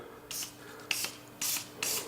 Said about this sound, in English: squirt a little oil down on the trigger